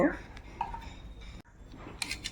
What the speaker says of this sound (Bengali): ঘি দিয়ে দেওয়ার পর আবারও খুব ভালোভাবে নেড়ে চেড়ে নেব, মিশিয়ে নেব এই সবজির সঙ্গে ঘি